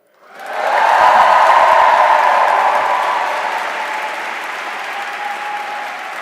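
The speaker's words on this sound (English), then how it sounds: "Segovia, let's give a big cheer for Madrid" At a welcome event in Segovia, a large crowd breaks into loud cheering and applause for Madrid, swelling quickly, then holding and slowly easing, with whoops riding over the clapping.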